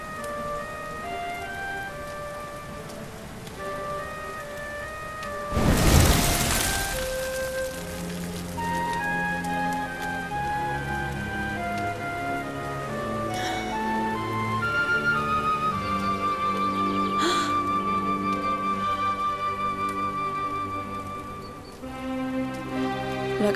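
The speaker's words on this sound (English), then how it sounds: "Looks like the rain's dying down." Steady rain patters through a Dragon Quest XI scene, held under a bed of game music with a loud burst around the sixth second, staying fairly even before easing near the end.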